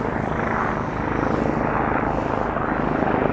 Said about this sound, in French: Ah, s'il y a l'hélicoptère en plus qui passe.